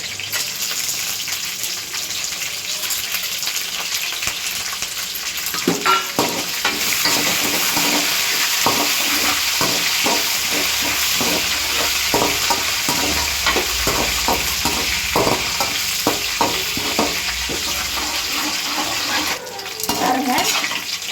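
Peanuts, chana dal and curry leaves sautéing in a pan give a loud, continuous sizzle, with busy stirring scrapes and clatters running through most of the stretch.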